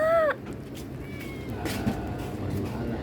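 A single short cat meow at the very start, fairly close, followed by quiet room ambience with faint background noise.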